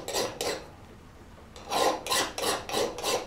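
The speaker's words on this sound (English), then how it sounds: "I'll break the edges on the tang to make the blade easier to handle." A file rasps along the edges of a steel throwing knife's tang: two quick strokes, a pause, then four steady, evenly spaced strokes, close and clear with no talking.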